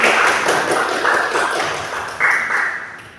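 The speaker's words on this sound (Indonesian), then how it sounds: "kita berikan tepuk tangan dulu Bapak Ibu" Audience at a school or community gathering giving applause, a close, dense burst of hand clapping that gradually thins and fades, with no talking over it.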